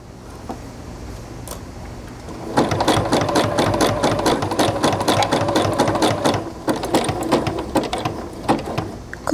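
Sewing machine stitching cotton piping cord into a basket, running in a steady rapid clatter of stitches for most of the stretch after a few slow isolated stitches, close and clear.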